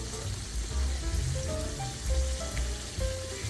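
Chicken fried steak pan frying gives a steady, dense sizzle and crackle with scattered pops, moderately quiet and continuous throughout, with no voices.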